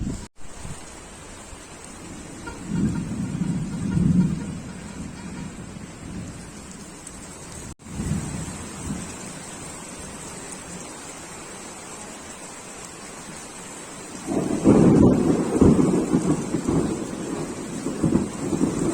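Outdoor rain falls with a steady broad hiss, while low thunder rumbles swell up twice, once early and again more strongly near the end. There is no talking.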